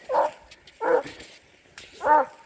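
Three short, close barks with a whiny, yelping edge from a 13-month-old dog on a leash, at uneven intervals with quiet pauses between them.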